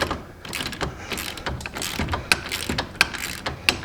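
Hand ratchet loosening tight wheel bolts on a Can-am Maverick X3, a steady run of rapid metallic clicks with a few sharper snaps standing out, close by with no talk.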